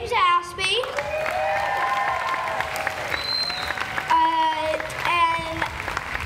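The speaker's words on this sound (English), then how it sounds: "give a round of applause for James Aspie." A crowd applauds in a sustained burst of clapping, while a voice speaks over the noise through a loudspeaker.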